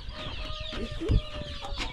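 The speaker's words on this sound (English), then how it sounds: "Do the chickens lay eggs?" Farmyard chickens among chicks in Ubon Ratchathani, Thailand, cluck steadily nearby, with a busy layer of overlapping fowl calls and one louder squawk partway through.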